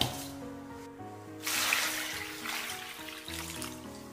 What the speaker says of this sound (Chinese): 我们先将芋头清洗一下